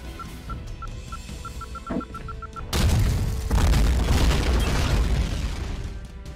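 A bomb blows up in the Minecraft video game. A few quiet repeated clicks come first, then a sudden loud boom with a rumbling, crackling burst that holds for several seconds and slowly fades.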